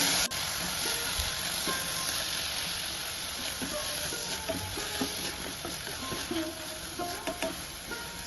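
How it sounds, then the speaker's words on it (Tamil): Tomatoes sautéing with golden onions in oil over a medium flame, a continuous soft sizzle with intermittent stirring scrapes and clicks throughout. "இப்போ தக்காளியையும் இதில் சேர்த்து வதக்கிக்கணும்."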